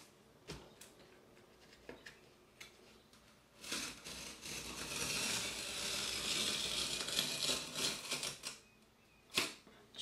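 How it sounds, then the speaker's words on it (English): A utility knife scores through carpet, cut to wrap around the edge of a DIY pedalboard. A dense, sustained scraping rasp runs for several seconds, with sharp clicks and snaps before and after it. "score along the carpet"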